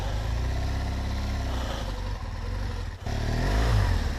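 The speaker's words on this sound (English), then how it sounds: "you can hear I'm having to slip the clutch and try to get it up these little tiny rises here" A BMW R1200GS Adventure motorcycle labours up small rises on a muddy off-road trail, its boxer engine revving steadily while the clutch slips. There is a brief dip near the end before the engine note surges again, loud and close.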